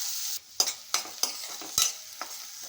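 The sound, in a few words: onions frying in oil with curry leaves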